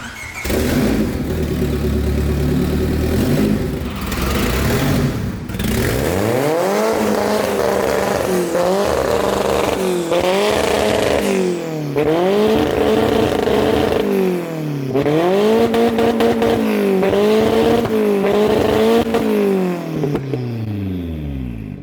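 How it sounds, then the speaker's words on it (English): A Toyota Camry engine cranks and fires up cold, then idles unevenly with repeated revs rising and falling, loud and close throughout. "The Camry cold start sounds a little weird today."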